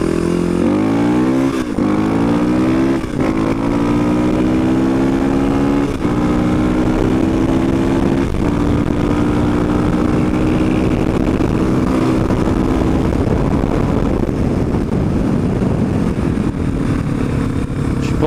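A 1997 Suzuki DR350SE motorcycle runs loud and close throughout, its single-cylinder engine revving up in rising steps and then holding a rough, steady drone.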